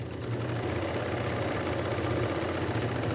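Sewing machine stitching the edges of a Peter Pan collar, with a steady, even mechanical whir and fast rhythmic ticking that runs continuously at close range.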